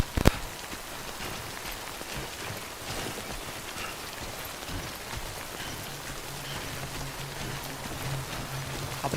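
Steady rain falls in the video game Death Stranding, a dense, even patter on the surfaces nearby. A sharp tap comes near the start, and a faint low hum enters later.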